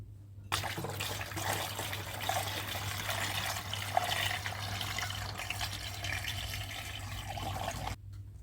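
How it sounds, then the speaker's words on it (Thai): Homemade date, honey and lime wine poured steadily into a fermenting tank, a continuous close liquid splash and trickle lasting several seconds, with a low steady hum underneath and no talking. "จะเทไวลงถังบ่มก่อนนะคะ"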